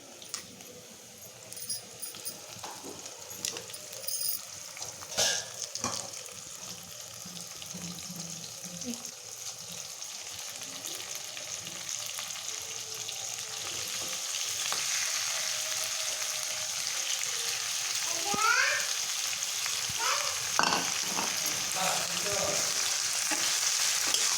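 Marinated chicken hitting onions already frying in a pan for chicken curry, a steady sizzle that swells and grows louder over time with occasional stirring clatter; faint voices now and then.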